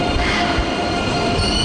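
ICE train at Köln Hauptbahnhof, a loud close continuous rumble of rolling stock with a faint high wheel squeal on top.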